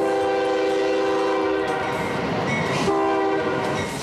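A train horn blasts loud and sustained at a railroad crossing, one long held chord that breaks off and sounds again, with the rumble and clatter of the passing train beneath it.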